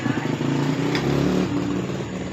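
A Honda CB150R motorcycle with a fuel-guzzling fault, its engine revved and sputtering unevenly up close, a steady rough drone with a choppy pulse throughout; a person talks over it.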